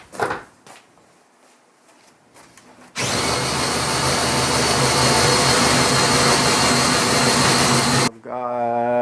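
A power sander works a wooden table top aboard a houseboat, starting with a few knocks and clatters, then a loud, steady whirring drone for about five seconds before cutting off, with a voice briefly after.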